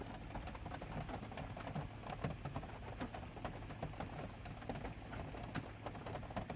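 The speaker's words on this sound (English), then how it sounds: "I was been listening to the rain." Rain falls outside an RV at Beaver Run RV Park, a soft, steady patter of many faint drops ticking on the surface throughout.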